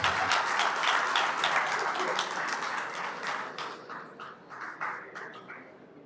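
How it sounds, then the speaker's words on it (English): An audience at a live international event in Accra breaks into applause for a chief, a full burst of clapping that thins into scattered claps as it fades. "Shall we do a big round of applause, ladies and gentlemen?"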